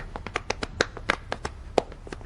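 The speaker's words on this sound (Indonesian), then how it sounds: "Mari kita beri tepuk tangan." A handful of scattered hand claps, sparse and uneven like a small group briefly applauding, fairly quiet with no voices.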